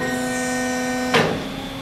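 An Ercolina 030 mandrel bender, its machine hum steady, gives a single sharp clunk as the clamps close, followed by a brief hiss as the hum settles, close up and without talk.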